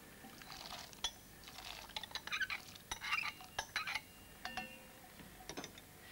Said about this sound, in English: Add the corn to the stock.